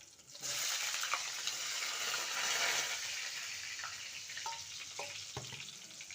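Potatoes and green chillies sizzle and crackle steadily in a hot pan, a dense frying hiss with a few light clicks of stirring, no voices over it.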